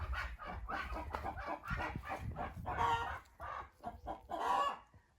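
Village hens clucking in a winter coop, a busy run of close, overlapping clucks and squawks with a faint rooster-like call among them, no people talking.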